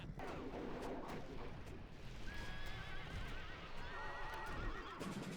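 Horses of horse archers whinny and neigh repeatedly in a Rome Total War battle, with hooves clattering beneath continuous dense battle noise; several drawn-out high whinnies stand out in the second half.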